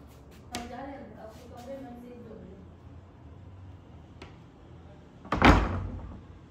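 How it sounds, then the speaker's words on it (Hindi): A door swings shut with one loud close near the end, after a few quieter knocks and thumps, while someone talks earlier on. "ठीक है बंद करो दरवाजा"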